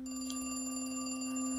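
A telephone rings in The Cat Lady video game with a steady electronic ringing tone that sustains throughout. No voices are heard over it.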